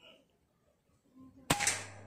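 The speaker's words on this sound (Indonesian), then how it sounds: "Saya coba kembali beberapa kali tembakan untuk menembak target." A PCP air rifle fires a single sharp shot at a target, a sudden crisp crack followed by a short ringing tail after quiet moments of faint handling noise.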